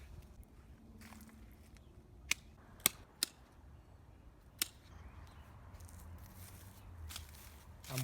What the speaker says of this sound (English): You always want to have the big blade pressed to the big wood in order to get the cleanest possible cut.